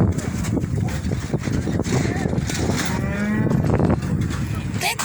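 A large cow at a cattle ranch lets out a drawn-out moo nearby during an outdoor field day. Wind and people chatting are heard around it.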